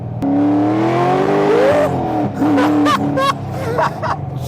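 A 700+ HP Corvette accelerating on a race track, a loud close engine roar rising through the revs, then choppy pitch jumps as it shifts and lifts, heard from inside the car.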